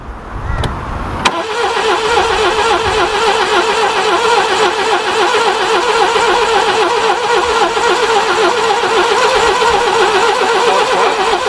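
A Subaru Brumby ute with fuel added to its carburettor cranks briefly, catches, and then runs with a steady, throbbing, rough idle. The engine is close and loud, and no one talks.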